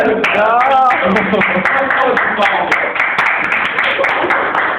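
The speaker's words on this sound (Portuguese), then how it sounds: "vocês vão receber com uma salva de palmas o nosso querido Joseph André Klimber" An audience claps steadily to welcome a guest onto the stage at a meeting, a sustained spread of hand claps running under an announcer's amplified voice throughout.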